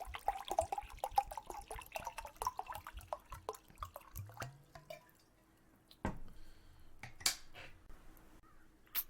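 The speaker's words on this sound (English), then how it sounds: "Waterfall." Close, clicky ASMR water sounds: a rapid, irregular run of drips and snaps, busier in the first half and then thinning to sparse pops, with no talk.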